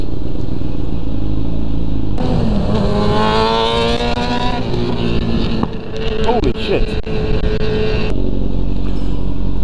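A car engine revs hard and roars through the exhaust for several seconds, loud and close, with a voice briefly exclaiming over the noise.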